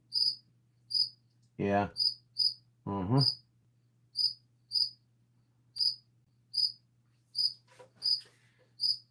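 Loud, high-pitched cricket chirps at night repeat in steady pulses over a low hum, with a couple of short spoken words breaking in.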